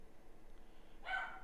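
A pet dog at home lets out a single short, sharp bark or yelp near the end, loud against an otherwise quiet room.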